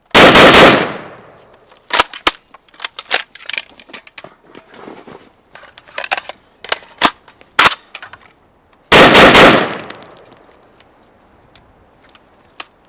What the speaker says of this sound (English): access a fresh magazine, insert it, and then hit the bolt handle